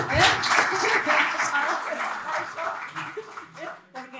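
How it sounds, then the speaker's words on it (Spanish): Audience applause at a financial funds competition event, a dense burst of clapping that fades toward the end, with some voices and chuckles mixed in. "le vamos a dar un aplauso también, por favor"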